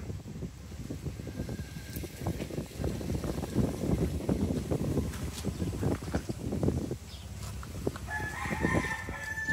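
Hens close to laying cluck and squawk busily nearby, with a rooster's crow rising near the end over a soft, windy outdoor background.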